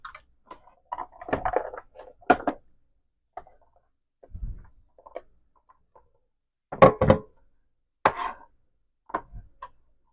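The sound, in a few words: chopping salsa ingredients smaller by hand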